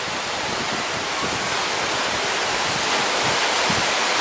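Mohini waterfall roars in a dense, unbroken wash of falling water, loud and close, with spray-laden wind adding to the steady rush and no other sounds breaking through.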